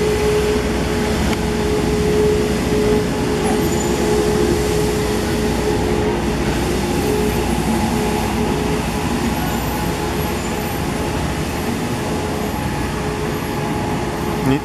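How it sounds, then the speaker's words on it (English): A street cleaner passes at night, giving a steady, broad mechanical rumble and hiss that holds evenly throughout with no breaks and no voices. "The street cleaner is going by, as you can hear."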